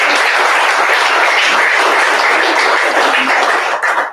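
At the official presentation of the Itas Città Fiera Libertas Martignacco volleyball team, the crowd breaks into loud, sustained applause that holds steady and then tapers off abruptly at the end.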